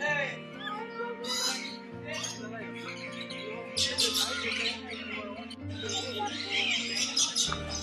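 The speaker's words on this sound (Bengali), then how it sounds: "বাহ লাল লাল রঙের কি পাখি এগুলো" Red birds in an enclosure at Alipore Zoo chirp and call repeatedly in quick, high tweets, fairly close, while people talk nearby.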